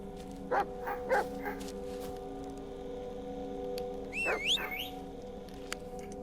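Dog barks from the Blair Witch horror video game, a few sharp yips early on and a brief whining, whistle-like cry later, heard over a steady low game ambience without talk.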